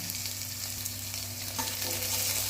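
Onions and carrots sizzle steadily in hot oil while frying for a mixed vegetable sambar, with a constant crackling hiss and occasional stirring scrapes close up.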